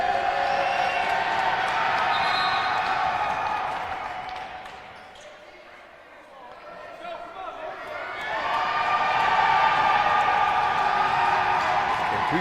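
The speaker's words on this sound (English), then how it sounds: "You can hear the crowd." A college basketball crowd at a men's game against Montana Tech roars during free throws. The noise fades to a lull, then swells back up, with a commentator talking over it.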